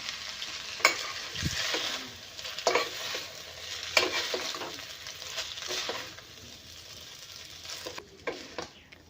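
Salted noodles being mixed in a hot pan, a continuous sizzle with repeated scraping and tossing strokes of a utensil, close by and with no talk.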